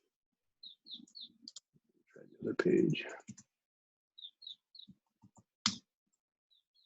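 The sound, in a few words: chicks chirping in the office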